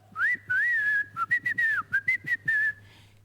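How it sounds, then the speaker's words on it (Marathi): A bright whistled melody in a comedy skit, a series of gliding, warbling notes in short bursts with pauses between, close and alone. "त्याने शिट्टी गिळलेली आहे."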